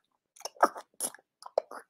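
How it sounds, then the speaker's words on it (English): A nervous dog licking nearby, heard as a handful of short, wet, smacking mouth bursts separated by silence, with no voices. "I don't know if you can hear these weird licking noises"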